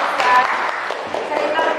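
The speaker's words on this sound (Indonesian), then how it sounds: "tepuk tangan untuk saya" Audience applause at a teachers' school presentation in Tuban, a dense steady patter of clapping under overlapping voices and chatter for the whole short stretch.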